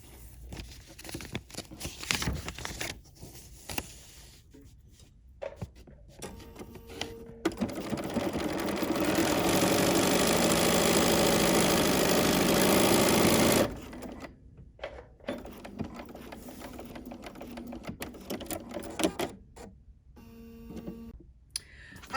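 A sewing machine runs in bursts of rapid mechanical stitching, with one long continuous run in the middle and shorter stops and starts around it.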